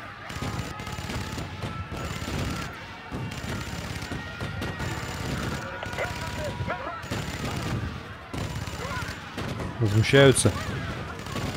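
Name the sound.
cannon gunfire in the video game Spore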